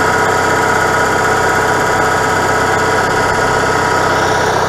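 An RV generator engine, unused for months, idles as it warms up. It runs at a loud, constant drone with steady vibration and no pauses.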